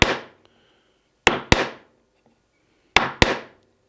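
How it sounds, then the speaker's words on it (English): Chisel struck straight down into wood while building an upper kitchen cabinet: five sharp, gentle taps, mostly in quick pairs, each a dry woody knock with a short ring, close and alone with no talk. "Real gently strike straight down with a chisel."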